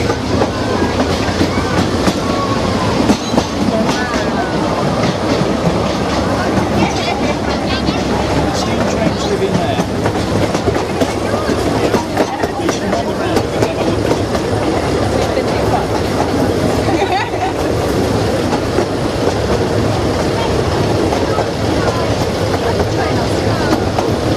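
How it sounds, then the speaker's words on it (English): Small train rolling along rails with steady clickety-clack running through the whole stretch, fairly loud and close, with people talking over it. "Can you see the little train? Can you see the other train?"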